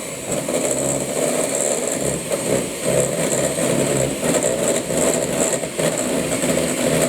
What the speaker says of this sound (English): when we are using our hand whisk, our electric hand whisk, what we are doing is we are adding air into our product